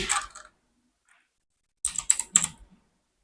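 Computer keyboard typing in Canva: a short burst of quick clicks, a second of silence, then another cluster of rapid, close keystrokes that trails off.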